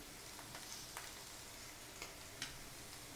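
Prawns frying in a pan with garam masala and ginger garlic paste, a quiet, steady sizzle with a few faint ticks of stirring, no voices.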